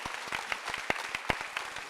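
A church congregation applauding at a Sunday worship service, a dense, steady run of many hands clapping close by, fairly loud and without voices.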